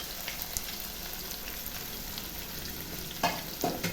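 Chopped onion and peeled, cut ginger frying in a pan for an egg and capsicum gravy, a steady close sizzle throughout with a couple of brief stirring scrapes near the end, no voices.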